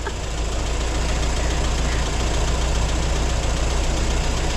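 An old engine idles steadily with a low, rough knocking churn. The sound is loud and continuous throughout, close by, with no pauses.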